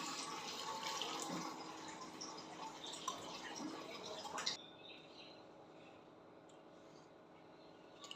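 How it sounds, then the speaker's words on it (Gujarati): Water running from a tap or being poured into a cooker pot while making Gujarati-style tomato soup, a steady splashing, trickling stream that is loud at first, then drops to a quieter drip and fill after a few seconds. "હવે આમાં પાણી નાખશું."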